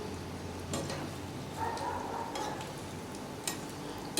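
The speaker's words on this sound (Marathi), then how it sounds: "आता ह्या तेलामध्ये भेंडी टाकून तळून घेऊयात" Okra fries in oil, giving a steady bubbling sizzle with a few soft stirring scrapes and brief clinks on top.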